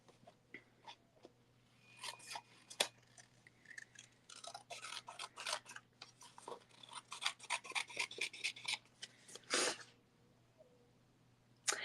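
Scissors trim a freshly glued paper craft piece, giving close crisp snips and rustling paper in quick irregular bursts, with no voices.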